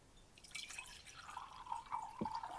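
Boiling water trickles and splashes into a pot, with drips and a gurgling stream that grows steadier over a couple of seconds.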